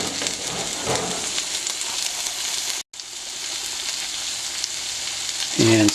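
Tomatoes, shallots and mushrooms frying in a pan, a steady close sizzle with a short break partway through, then a brief clatter at the end.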